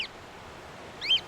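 Cockatiel contact calls: two short, high chirps, one at the very start and a clearer one near the end, faint and alone over quiet background hiss.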